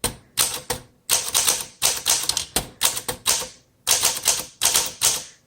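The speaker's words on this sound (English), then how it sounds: "let's go ahead and do typing" A 1936 Smith Corona Standard flat-top manual typewriter clatters up close in brisk bursts of key strikes, with short pauses between runs and no voices.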